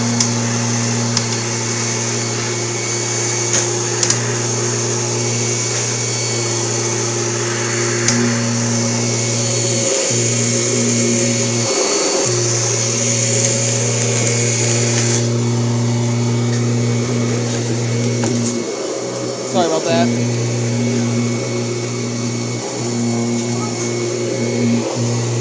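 A Kirby Generation 4 upright vacuum cleaner runs continuously with a loud, steady motor drone and whine. Its pitch shifts briefly as the machine is set down or moved over the floor.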